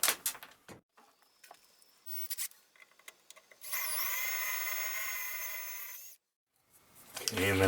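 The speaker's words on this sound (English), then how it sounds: "drill a hole. I'm gonna start with a smaller drill bit." A small bit drills a hole in the metal chassis of an SB200 linear amplifier after center-punching, a steady high whine of a little over two seconds, preceded by clattering handling sounds and followed by a brief pause.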